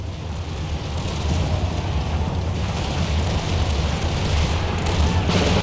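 Musket volleys crackle and rumble in a continuous fusillade during a War of Austrian Succession battle at Pirna Heights in a strategy video game, with dense, overlapping distant shots and booms.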